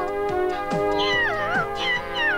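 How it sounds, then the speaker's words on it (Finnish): An animated cartoon cat meows several times in quick succession, each call a bright, rising and falling wail, loud and close. "Miau."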